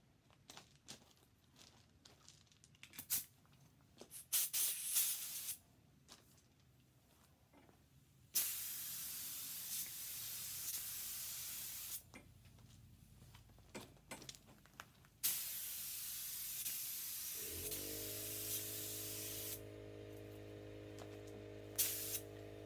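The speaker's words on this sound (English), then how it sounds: "Let's get to spraying." Aerosol can spraying silver paint onto a helmet, a run of separate hissing bursts of varying length with short gaps, close and fairly loud, then a low steady hum joins near the end.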